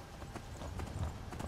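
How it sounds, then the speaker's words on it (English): A horse's hooves clip-clop out in the wilds of the Skyrim video game, a steady run of soft, rhythmic thuds at moderate distance over low ambient game noise. "Got a free horse."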